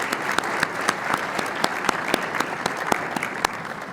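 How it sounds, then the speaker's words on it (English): Audience applause fills a room at the Iowa PGA awards luncheon, a dense steady patter of many hands with a few sharper individual claps standing out, sustained and fairly close throughout. "can we please give them a big round of applause"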